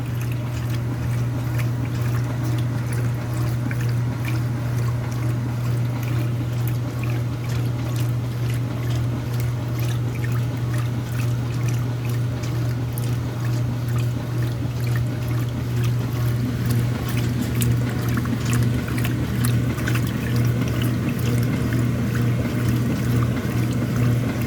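A 2017 Speed Queen washing machine fills with water, a constant loud hum and rushing flow under a trickling, splashing texture that holds steady from start to finish.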